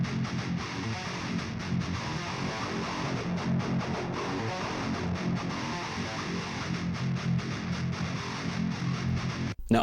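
Distorted modern metal electric guitar with its mid-range boosted by a Saturn saturation plugin, playing dense chugging palm-muted riffs, loud and continuous with a gritty, thick tone and no voices.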